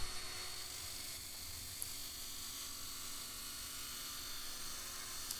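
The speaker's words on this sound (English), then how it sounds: "Just stick it in your drill and rub it against a" A stainless steel chef knife part spins in a hand drill against a moving abrasive belt, a steady high whirring grind with a constant motor hum, close and continuous.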